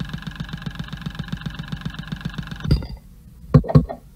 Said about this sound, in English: Let's just have a listen to each injector